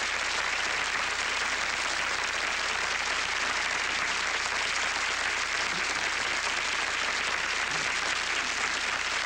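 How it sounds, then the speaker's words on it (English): A studio audience at a Lawrence Welk television show applauds in a dense, steady roar of many hands clapping, loud and unbroken for the full length with no talking. "Listen to that applause."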